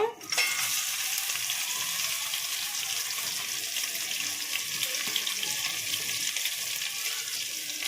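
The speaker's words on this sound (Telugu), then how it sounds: "ఇప్పుడు ఆనియన్స్ని కూడా ఫ్రై చేసుకుంటాను" Onions frying in a pan of oil while cooking prawn biryani, a loud continuous sizzle that flares at the start and then holds steady and close, with no one speaking.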